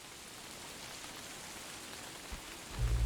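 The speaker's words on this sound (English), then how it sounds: "It's raining, man." Steady rain falls in a video game, a constant soft hiss of drops on surfaces, quiet and even throughout, with a low thump near the end.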